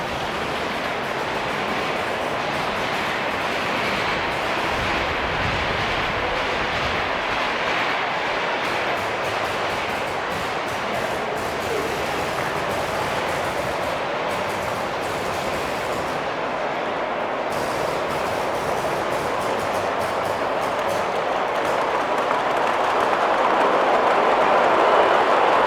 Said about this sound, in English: So we've got the 25 coming back down with its freight train.